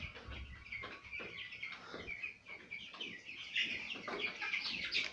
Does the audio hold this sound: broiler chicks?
yes